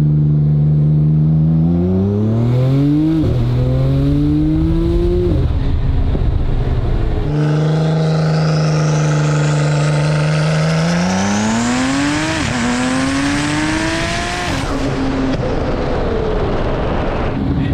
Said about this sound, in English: Let's get a little bit of brake boost going.